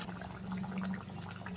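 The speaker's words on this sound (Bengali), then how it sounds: "এবার জল দিয়ে দেবো" Water is poured into a pan of spiced, fried potatoes for a fish curry, a brief soft splashing and bubbling at close range.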